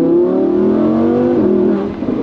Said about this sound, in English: So you can still hear the V10.